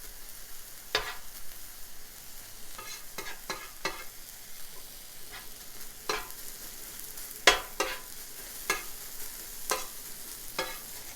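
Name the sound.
onions caramelizing and sizzling in a pan for Philly cheesesteak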